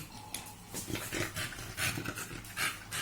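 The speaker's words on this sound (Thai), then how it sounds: "เห่าอยู่นั่นแหละ ไม่ยอมหยุด" An American Bully dog pants and huffs close by in a series of short breathy bursts, with faint whimpering and no clear barking.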